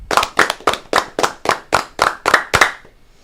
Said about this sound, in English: 10 claps, ready.